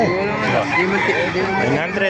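A fighting rooster crows loudly up close at a gamefowl market in Baliuag, Bulacan, mixed with clucking from other fowl and voices talking in a busy, noisy crowd.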